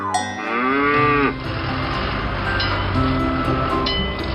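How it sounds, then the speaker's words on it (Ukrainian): A cow moos up close for about a second, then a cowbell clanks faintly a few times against steady rumbling background noise. "Який у тебе голосний дзвіночок?"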